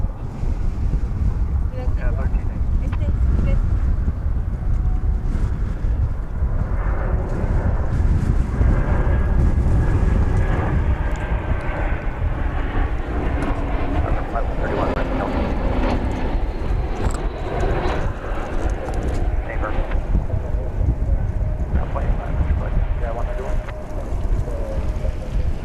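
An airliner arriving at DFW Airport, Flight 2015 from San Diego, gives a broad, loud roar that stays steady throughout, mixed with wind buffeting on the microphone while a voice talks over it.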